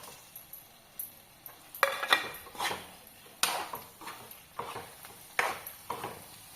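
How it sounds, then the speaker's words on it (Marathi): Eggs are stirred into masala in a cooking pan for egg masala fry, with a spoon scraping and clinking against the metal in quick, irregular strokes over a soft sizzle. "त्याच्यामध्ये ही अंडी टाकून घ्यायचे।"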